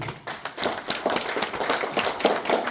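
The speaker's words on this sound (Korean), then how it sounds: "다시 한번 뜨거운 손뼉 부탁드립니다." An audience at an indoor rally in Cheongju gives warm applause, dense sustained clapping from many hands, fairly close and steady throughout.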